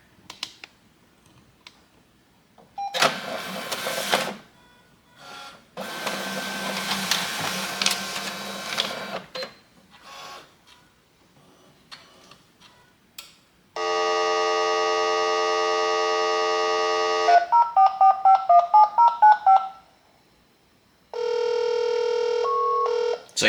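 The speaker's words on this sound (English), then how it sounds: "that intermittent beep you keep hearing there? Well, that's this fax machine handshake tone" Long steady electronic tones and warbling beeps from a fax machine handshake, sounding in several bursts with brief pauses between them, after some rustling at the start.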